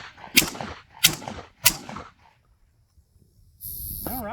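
Three sharp, loud shotgun blasts from a Tokarev TAR 12P semi-auto loaded with double-aught buckshot, spaced about two-thirds of a second apart at an outdoor range, followed by silence and then a burst of noise.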